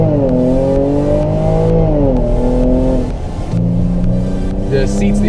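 A Jaguar engine revs loudly and continuously with rising and falling harmonic pitch as the car accelerates, a brief dip near the middle before the engine climbs again, heard from inside the cabin.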